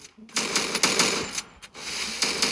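Gunfire from an unfamiliar weapon in the mobile game Free Fire sounds as loud rapid-fire bursts, several quick volleys separated by brief gaps.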